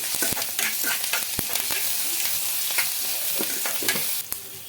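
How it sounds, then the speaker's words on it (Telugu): Ginger garlic paste frying in a pan, a steady close sizzle broken by frequent scraping and clinking strokes of a spoon stirring it, with no voices. "కొద్దిగా అల్లం వెల్లుల్లి పేస్ట్ అయితే వేసుకోవాలి ఇందులోకి ఒక హాఫ్ టీ స్పూన్ అండి వేసుకొని పచ్చి వాసన పోయే వరకు అయితే బాగా ఫ్రై చేసుకోవాలి"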